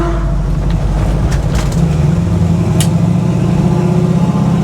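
A 1971 Chevrolet Nova rolls along a bumpy road, its engine a steady low rumble with rattles and thumps from the suspension and body, loud and close throughout with no talking.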